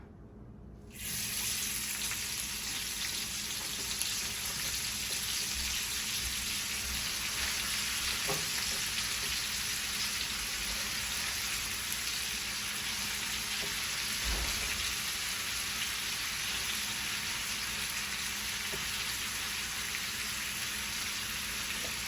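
Three large onions cooking down in a pan after chicken, meant to caramelize: a loud, continuous hiss of frying that holds steady throughout, with a couple of faint knocks and no talking.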